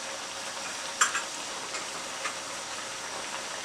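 Goat brain masala cooks in a pan on full flame with a steady, moderate sizzle and hiss, broken by a few faint clicks from the pan.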